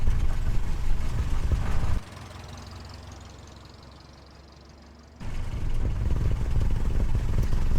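Engine of a 1928 Chevy Touring car chugging along at low RPM in top gear, a loud, rough, rumbling drive with road and wind noise that suddenly drops to a quieter hum for a few seconds, then returns.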